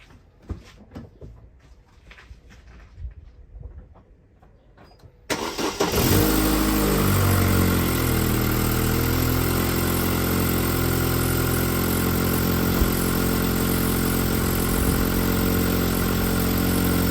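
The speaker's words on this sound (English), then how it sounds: "we'll go and start up the car" A car engine cranks and catches, then settles into a loud, steady idle that carries on close by for the rest of the stretch, following a quieter lead-in of faint handling noises.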